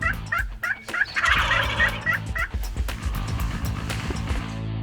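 A wild turkey gobbles near its roost in spring woods, a run of loud, rapid gobbles repeating close by with a dog-like yelp mixed in and no talking.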